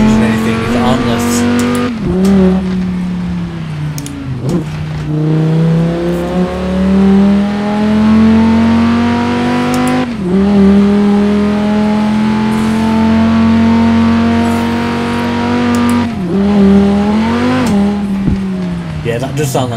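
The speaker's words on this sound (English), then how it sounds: "that does sound like a V10 now" Quadro V-Tech car's V10 engine in the racing game Forza Horizon 4 roars loud and continuous, climbing in pitch through the gears with short dips at each shift, with an occasional voice over it.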